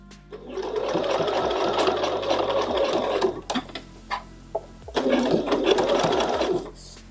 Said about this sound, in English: And I sew 1 centimeter from the edge for a couple of centimeters.